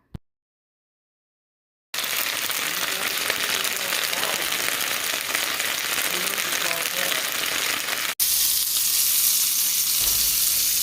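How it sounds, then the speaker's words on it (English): Loud, dense sizzling of potatoes frying in a hot pan under steam, continuous and close, after a moment of silence, with a brief break before the crackling resumes. "We have our fried potatoes underneath all this steam somewhere."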